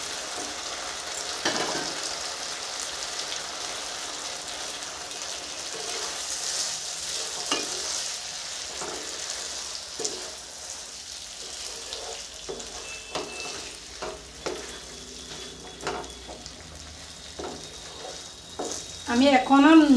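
Pre-fried cauliflower, carrot and beans are stir-fried in a pan for a mixed vegetable dish, with intermittent spatula scrapes and taps over a low, continuous sizzle that grows louder at the very end.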